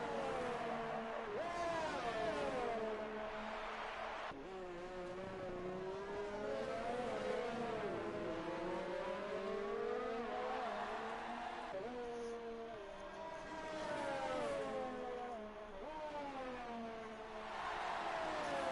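F1 cars in a German Grand Prix video game race drone along the front straight, engine tones sweeping up and down through gear changes, steady and moderately loud with several overlapping cars.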